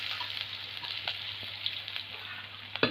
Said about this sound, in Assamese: এনেকৈ জলকীয়া, শুকান জলকীয়া এনেকৈ ভাজি আৰু পিঁয়াজ ভাজি